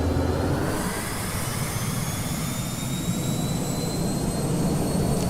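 Learjet jet engines spooling at takeoff power in a flight simulator, a loud steady roar with a high whine rising slowly over a deep rumble, continuous throughout and without speech.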